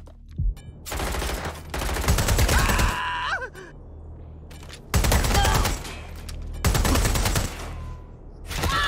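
Bursts of automatic gunfire in the video game Watch Dogs Legion, loud rapid fusillades in three long volleys with short pauses, honking-like tonal sounds between them.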